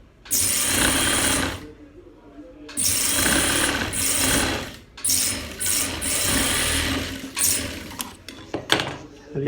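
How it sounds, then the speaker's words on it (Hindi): A sewing machine stitches piping onto buckram on the front strip of a men's suit, running in loud close bursts with short pauses and a few quick stop-start runs near the end. "थोड़ा सा बकरम पे ही हम सिलाई करके गए हैं, इसे हम कहते हैं पैपिंग।"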